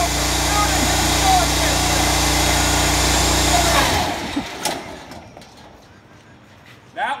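A Georgia Buggy's small engine runs at a steady high buzz after a pull start, then cuts out around the midpoint, leaving a few quiet clicks and handling knocks.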